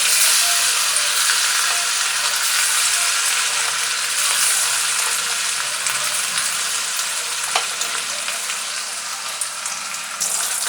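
Chicken 65 pieces deep-fry in hot oil, a loud, dense, continuous bubbling sizzle lasting throughout, close by, with a faint clink near the end.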